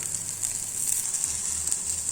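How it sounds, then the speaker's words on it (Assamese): Spices frying in a pan for a homemade Assamese recipe give a steady, even hiss and sizzle, fairly quiet and close, with no voices. "এতিয়া এইখিনি অকনমান ভালদৰে ভাজিম"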